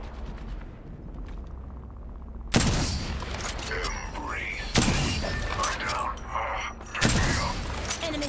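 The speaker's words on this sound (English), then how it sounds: "They're shooting at me." Gunfire in Apex Legends at Halloween Kings Canyon, with three loud bursts of shots and impacts spaced a couple of seconds apart, each followed by clattering and ringing, and voices talking throughout.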